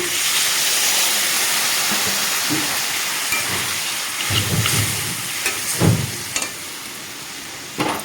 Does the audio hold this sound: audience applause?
no